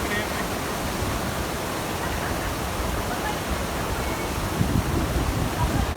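A waterfall with four sets of falls at a lukewarm freshwater spring rushes in a steady, dense, loud roar with no break throughout.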